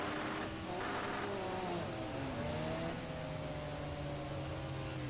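A silver Mercedes race car in a racing video game on the Monaco circuit sweeps past, its engine note rising then falling in pitch over a continuous droning background.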